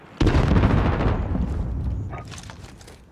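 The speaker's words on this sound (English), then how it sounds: "Rocket away!" A rocket in a video game, launched with a sudden loud blast that rolls into a long rumbling explosion, decaying over a couple of seconds while scattered crackles and smaller pops trail off.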